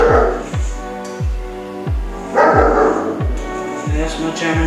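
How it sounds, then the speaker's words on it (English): A big German Shepherd barks outdoors in a steady run of deep, loud barks, roughly one every half second, with some higher yips mixed in. "That's my German Shepherd outdoors."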